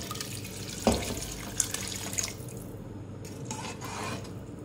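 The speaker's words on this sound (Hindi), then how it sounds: "अब इसमें यखनी शामिल करूंगी। यखनी को मैंने छान लिया था, अलग रख लिया था इसको। ये डालूंगी इसमें" Strained beef yakhni stock is poured into rice for a white pulao, a continuous watery splashing and trickling with a brief clink near the start, then the pour thins out toward the end.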